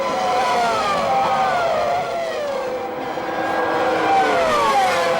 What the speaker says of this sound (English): that is Coulthard's Williams Renault in front of us as they go into the parabolica